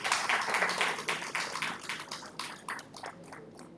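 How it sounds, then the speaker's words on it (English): A round of applause for a named participant at an International Day of Light event: a fairly faint patter of many hands clapping that thins out and fades over a few seconds. "Big round of applause."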